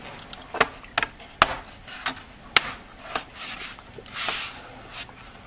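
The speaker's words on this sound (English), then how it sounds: "I'm gonna snap, push it in there first. And then snap it right in." mSATA SSD being pushed and snapped into its slot inside an MSI GE70 laptop, a close series of sharp plastic clicks and taps spaced about half a second apart, then a brief scraping rustle.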